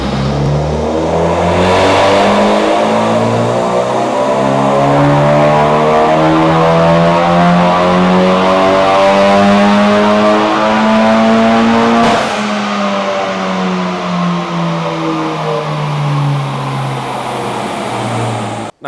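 Car engine revving hard and continuously with rising and falling pitch as gears are shifted through a short shifter, one clear shift break near the middle, loud and close, no talking.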